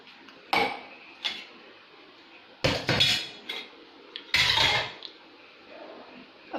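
Freshly brewed tea is strained in a home kitchen. Metal pots and utensils clank and scrape in several loud, separate bursts with quiet gaps between them, close at hand and with no talking.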